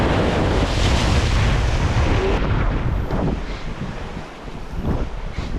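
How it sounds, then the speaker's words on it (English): Large waves crash near rocks by the water, a loud roaring surge up close with heavy wind buffeting, easing briefly before swelling again. "While standing close to the rocks near the water, large waves suddenly crashed into him."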